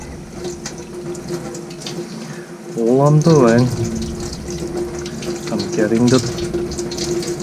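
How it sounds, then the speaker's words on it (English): Tap water rinses a foam air filter during a Suzuki DR650 service, a steady close splashing flow that swells midway while someone talks over it. "give this whole thing a nice clean with the water from the inside to the outside"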